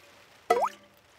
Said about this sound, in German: Hört es jetzt auf zu tropfen? Nein, es tropft noch mehr.